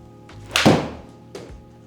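A golf iron (Takomo 201T MkII) strikes a ball slightly off-centre on a practice swing, one sharp loud thunk up close, then a fainter second knock about a second later.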